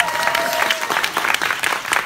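A theater audience applauds at a stage greeting for the film Secretly, Greatly, a loud, dense wash of clapping from a large crowd that lasts throughout, with faint voices mixed in.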